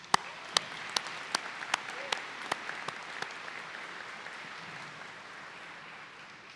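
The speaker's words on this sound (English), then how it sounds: "Let's give them a big round of applause." Applause rises from the crowd at a 2019 Rowan University commencement ceremony, a steady wash of clapping with several sharp louder claps standing out early on, holding even before thinning slightly toward the end.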